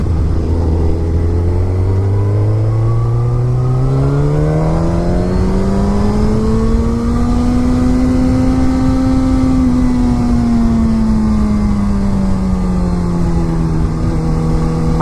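Suzuki GSX-R1000 liter bike engine heard while riding: a loud, steady, close drone whose pitch climbs smoothly as the bike accelerates through a gear, then levels off and eases slightly, under constant wind rush.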